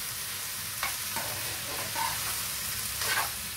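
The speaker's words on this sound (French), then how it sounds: "Voilà, vous mélangez bien." Food sizzles steadily in a hot pan while a utensil stirs it in a few scraping strokes, close and even, with no talking.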